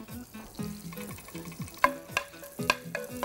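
Mace and a few cardamom pods sizzle in hot melted butter, a close, lively frying crackle with sharp spitting pops and clinks of a utensil stirring the pan.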